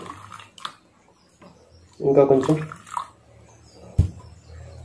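Water poured into aquagel beads around a small plant in a container, a short close splash of about two seconds, with a person speaking briefly before and after.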